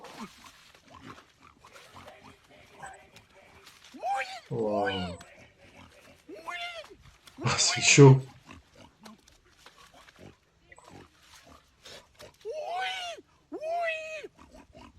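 A man imitates pig grunting and snorting with loud, gravelly bursts, the strongest near the middle, mixed with short exclamations and chatter in French.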